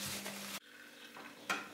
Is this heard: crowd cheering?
no